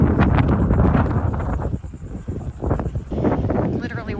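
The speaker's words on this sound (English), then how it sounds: "Wind is getting heavy." Strong gusting wind buffets the microphone while walking through coastal sand dunes, a loud continuous roar that swells and dips, easing briefly midway before building again.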